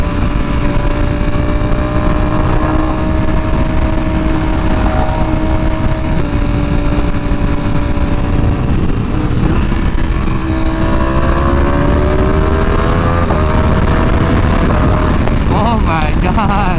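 A Ducati V4 R superbike fitted with a new exhaust, running loud and continuous at close range with a sustained engine drone, revs shifting and rising toward the end.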